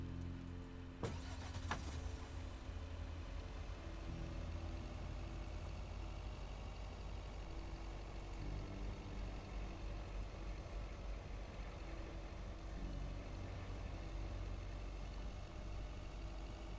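A truck drives along in a lake-themed video game demo, its engine giving a steady, continuous low rumble with a brief higher clatter near the start.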